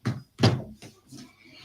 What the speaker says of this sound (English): close that door for me.